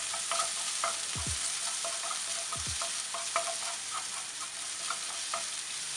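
Crushed garlic and ginger sauté in a little hot oil in a non-stick pan, a continuous close sizzle broken by a couple of low scraping thuds of stirring, with no one speaking.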